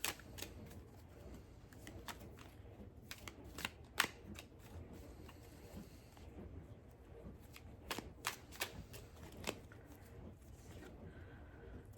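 Tarot cards being shuffled and handled, soft riffling and scattered crisp snaps and taps at close range, fairly quiet, without speech.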